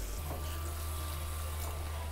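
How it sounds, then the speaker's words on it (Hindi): Continuous pour of a glass of water into a pan of potato curry, a steady liquid splashing and gurgling close by, low and even throughout, with no talking. "आलूओं को गलाने के लिए 1 गिलास मैं इसमें पानी डालूँगी।"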